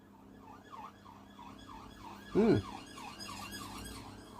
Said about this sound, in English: maybe an ambulance.